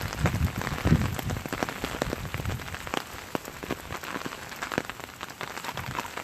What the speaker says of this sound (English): I think the rain sounds lovely too.